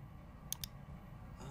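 A computer mouse clicks twice in quick succession, faint and close against a low background hum.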